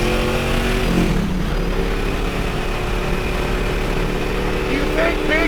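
A high-revving Ford Mustang V8 in a million-dollar build drones loudly and steadily up close with a dense engine roar, while someone talks over it.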